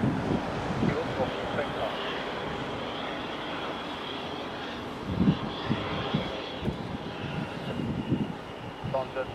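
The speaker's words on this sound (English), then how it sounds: "the next plane arriving is a EasyJet coming from London Gatwick" An easyJet airliner arriving from London Gatwick lands at Madeira Airport, its engine roar a steady broadband rumble throughout, swelling slightly near the end, with faint voices in the background.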